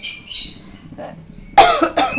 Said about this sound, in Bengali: খুব কাশি হচ্ছে, দেখছো তো